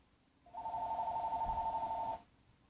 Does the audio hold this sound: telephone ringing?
yes